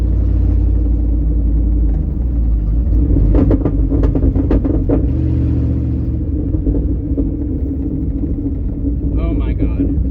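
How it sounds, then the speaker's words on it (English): A 1993 Ford F-150 pickup with a swapped engine accelerates, its loud, steady low engine rumble building and surging throughout with some mechanical clatter mid-way; a voice speaks briefly over it. "Plenty of acceleration now."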